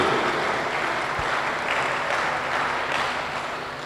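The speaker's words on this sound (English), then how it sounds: "A big round of applause for you." Sustained applause from a crowd honouring basketball players at an international sports week event in Curaçao, dense steady clapping that fades slightly toward the end.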